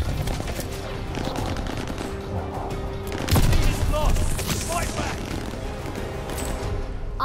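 Video game gun firing, a steady rattle of shots under game noise with a louder burst midway, while a person talks over it.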